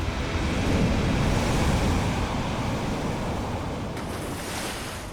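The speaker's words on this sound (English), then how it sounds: "This is proof of the power of the ocean right here." Ocean waves break and wash at a surf spot, a loud rushing roar that swells and slowly fades, with wind buffeting the microphone.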